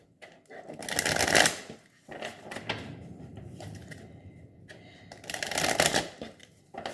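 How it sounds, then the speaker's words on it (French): Tarot cards shuffled by hand before a draw, two loud riffling bursts close by separated by quieter soft card handling, with no talk. "je vais tirer 5 cartes avec l'oracle, enfin le tarot de la bienveillance."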